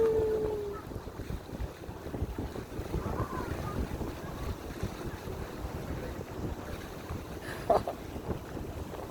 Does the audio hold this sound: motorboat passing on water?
yes